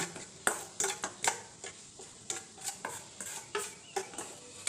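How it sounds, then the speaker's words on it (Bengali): Spices, both ground paste and powder, being mixed with water in a bowl, heard as a steady series of sharp spoon taps and scrapes against the vessel, close and distinct, about two to three per second. "মশলাটা ভালো করে জল দিয়ে গুলে নেব"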